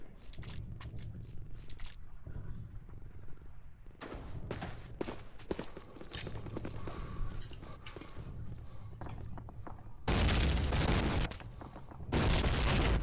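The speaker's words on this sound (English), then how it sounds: "Lots of nades being exchanged" Grenades exploding in Call of Duty: United Offensive during a competitive match, loud broadband blasts and bursts of gunfire running continuously, with two heavy booms near the end.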